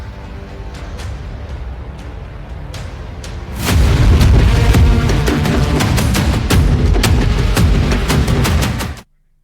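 Heavy booms of 155 mm howitzer fire roll out one after another, loud and sustained, with a dense rumbling barrage building midway before cutting off.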